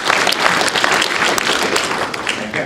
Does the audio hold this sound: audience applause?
yes